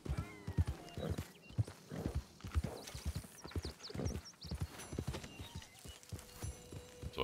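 Horse hooves clip-clopping steadily in Red Dead Redemption 2, with a few whinnies and neighs breaking through, close and fairly loud with game ambience and occasional bird calls.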